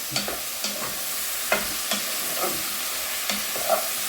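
Garlic and onion are stirred in a pan as they fry, giving a steady sizzle broken by repeated scraping and tapping from the spatula. No one talks.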